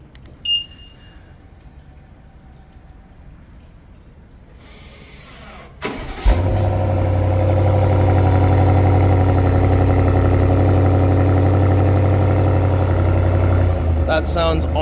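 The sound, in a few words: 2023 BMW M550i xDrive engine running at the back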